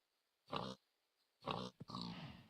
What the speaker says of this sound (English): These pigs have trapped themselves down here.